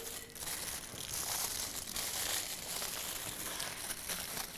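Tin foil crinkling and crumpling as a tofurkey loaf is wrapped loosely in it, a continuous close rustle with soft irregular crackles and no pauses, no talk.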